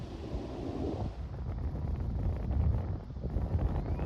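Wind rushes across an open golf course at a par 3 hole, a steady low roar buffeting the microphone, swelling louder through the middle and staying strong to the end, with no voices.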